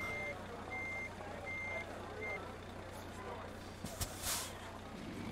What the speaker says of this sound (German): Wenn ich jetzt hier langsam rückwärts eine Kurve fahre